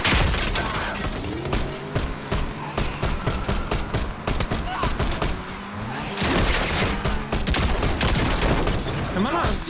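Rapid gunfire in Call of Duty: Black Ops 6 during a prison breakout, with loud bursts of shots and crashing impacts throughout and a voice speaking in between.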